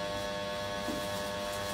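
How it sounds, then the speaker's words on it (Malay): An old electric fan hums steadily and continuously at close range, a constant buzzing drone with no talk over it. "Bising kipas saya. Kipas dah lama sangat."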